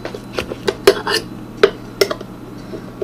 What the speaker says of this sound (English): now I'm going to get another spoon and just kind of push them down a little bit more